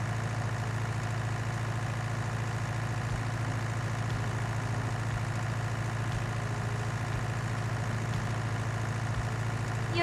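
Tractor engine idling in Farming Simulator 19, a steady low droning hum held constant throughout with no speech over it.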